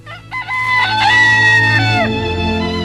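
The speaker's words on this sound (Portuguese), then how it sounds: "Pedro negando a Jesus e depois o galo canta" A rooster crows once, loud and close, in a long drawn-out cock-a-doodle-doo that rises, holds and trails off, with no talk over it.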